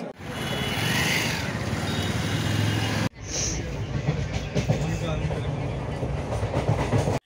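A train rumbles past close by, a loud continuous roar with rhythmic clattering of wheels on track, a sharp shift in the noise midway through.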